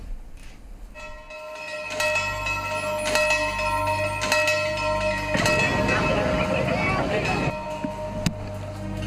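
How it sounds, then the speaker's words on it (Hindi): A school bell rings with repeated metallic strikes and sustained ringing tones, loud and close, while a voice speaks over it. "कोरोना काल में छात्र छात्राएं स्कूल की घंटी की आवाज सुनने को तरस गए हैं।"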